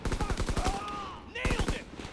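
Heavy automatic gunfire in a Call of Duty WW2 team deathmatch, dense rapid bursts of machine-gun shots firing continuously and loudly, with a brief lull before another volley.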